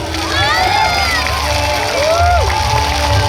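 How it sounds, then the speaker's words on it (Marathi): A festival crowd at the Solapur Siddheshwar celebration with fireworks and a drone show cheers loudly, a continuous roar of many voices with whoops and shrill shouts, likely mixed with clapping. "टाळ्यांचा गजर करूया"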